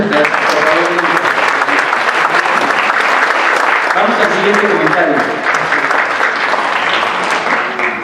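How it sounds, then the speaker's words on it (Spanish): Audience applause at a centenary talk on the songwriter Álvaro Carrillo, dense and steady for the whole stretch, with someone speaking over the clapping. "también se merece un gran aplauso por esto"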